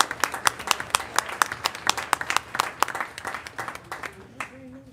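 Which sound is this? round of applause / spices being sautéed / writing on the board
round of applause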